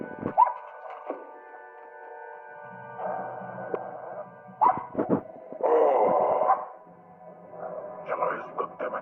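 A dog barks and yips in short bursts amid dialogue from an action film, with people speaking over a low background score and occasional thuds.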